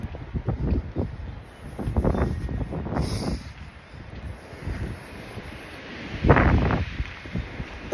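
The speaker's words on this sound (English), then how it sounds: "The hell's with all the wind?" Strong wind buffets the microphone outdoors during a wind advisory, rumbling in low gusts that swell and fade over the whole stretch, with a loud burst near the end and no talk.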